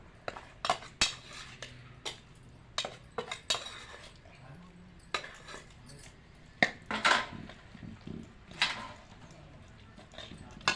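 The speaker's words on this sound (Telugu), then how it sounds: "ధనియాలు మెంతులు జీలకర్ర ఇలా పోసుకొని కలుపుకోవాలి" Spoon stirring coriander seeds, fenugreek and cumin into a pounded red chili pickle paste made with boiled tomatoes, giving scattered close clinks and scrapes of metal against a dish, irregular and fairly soft, with no one talking.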